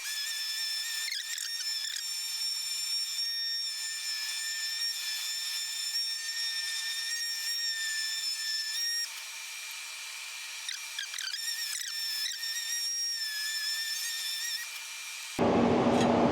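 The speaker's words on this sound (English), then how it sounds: "Just a bit of 80 grit on a sander." A power sander with 80 grit sandpaper works on a Series 3 Land Rover. It gives a continuous high, whining drone with steady overtones that wavers a little as pressure changes, then shifts abruptly at the end.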